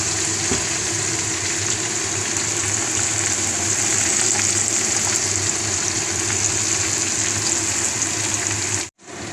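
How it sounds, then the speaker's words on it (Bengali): Pieces of a whole chicken fry in oil with a constant, loud bubbling sizzle that runs almost without a break, then cuts off sharply near the end. "দেখতেই পাচ্ছেন আমি কিন্তু পিস করে ভাজা করছি"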